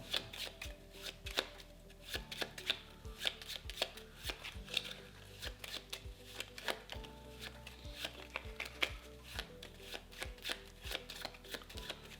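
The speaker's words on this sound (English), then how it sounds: "We only have 1, so we'll go ahead and shuffle and do the second one." A deck of game cards for a solo run of the racing board game Heat: Pedal to the Metal being riffle-shuffled and bridged, with crisp rapid flutters and taps repeating steadily, close up, with no talk.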